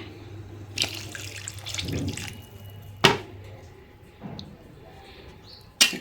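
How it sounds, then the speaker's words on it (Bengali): Hot water poured from a vessel into a cooking pot of rice and fish head, heard as short close splashing pours between quiet pauses, with a few sharp clanks of the pot. "এই জন্য আমি গরম জল দিচ্ছি। আর একটু জল লাগবে।"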